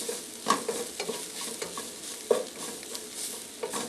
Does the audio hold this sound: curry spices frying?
yes